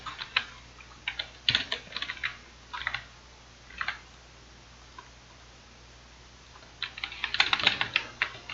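Code being typed on a computer keyboard: clustered bursts of crisp, close key clicks with a pause in the middle and a dense flurry of keystrokes at the end.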